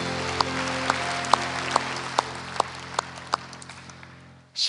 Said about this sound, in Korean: 우리 주님께 감사의 박수